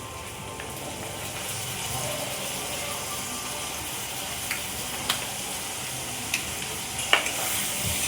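Dark soy sauce hits a hot pan while egg noodles are being cooked, producing a continuous close sizzle and bubbling hiss with a few sharp ladle taps near the end.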